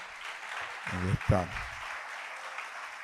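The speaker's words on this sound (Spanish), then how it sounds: "Dese usted mismo un fuerte aplauso en esta." A church congregation applauds as a steady, faint hiss of many clapping hands, with a brief spoken voice rising above it midway.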